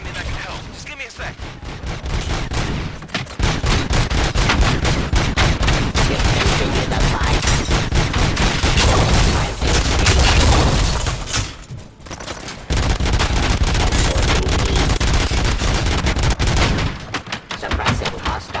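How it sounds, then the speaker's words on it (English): Dense, sustained gunfire in the Robocop: Rogue City game, a loud continuous barrage of rapid shots with brief lulls, filling most of the stretch. "Gunshots? What's going on?"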